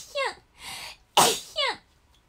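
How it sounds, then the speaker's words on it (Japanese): A sharp, close sneeze bursts out between short vocal sounds, with brief breathy noises before and after it. "ちょっとね、くしゃみが"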